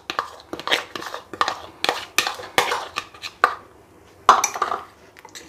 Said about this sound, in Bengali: এবার এইবার এর মধ্যে আমি যে গ্রেভিটা করেছি এটাকে এর মধ্যে দিয়ে দিচ্ছি।